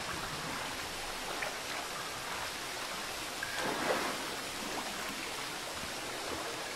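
Underwater swimming ambience in The Witcher 3 video game, a steady muffled rushing wash with faint bubbling swells, heard alone without talk.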